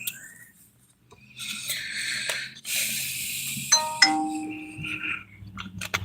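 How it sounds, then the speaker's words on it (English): A short electronic notification chime from a computer during a live stream, a few bright tonal pings with rising steps, heard faintly over low background hum and noise. "Notification going out."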